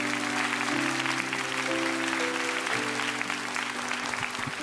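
A church congregation breaks into loud, sustained applause that fills the hall with dense, continuous clapping, a faint held musical tone sounding underneath and no speech on top.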